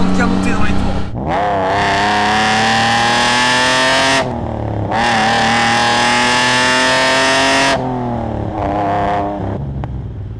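A Fiat Dino Spider's engine revs hard while driving, rising in pitch through two long pulls with brief drops between gear changes, loud and close throughout.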